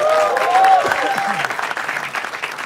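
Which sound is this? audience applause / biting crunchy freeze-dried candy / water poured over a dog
audience applause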